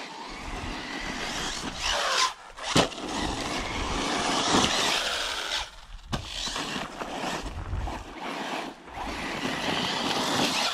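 Arrma Typhon 6s RC car bashing around a gravel quarry, its motor whining and surging loud and close with continuous rough driving noise, brief dips and a sharp burst as it jumps and lands.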